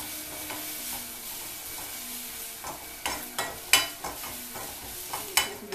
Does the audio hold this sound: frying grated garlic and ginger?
yes